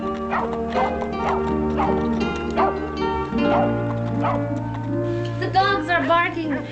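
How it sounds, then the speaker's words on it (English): Several dogs bark repeatedly in a western cowboy film scene, a rhythmic chorus of yips and barks over a sustained low musical score. "The dogs are barking."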